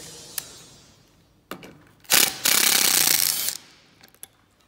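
A cordless impact driver hammers a socket loose from a membrane sink trap fitting, giving a loud rattling burst of about a second after a few quieter clicks and a short whir, close up with no voices.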